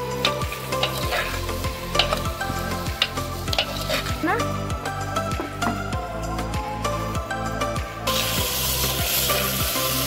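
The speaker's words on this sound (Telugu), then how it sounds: "ఇలా ఉడుకుతుంటే ఇట్లా కలుపుకుండాలి" Sambar boils in a clay pot while a ladle stirs it, giving rhythmic scraping strokes over a bubbling, sizzling bed, close and fairly loud, with a louder hiss near the end.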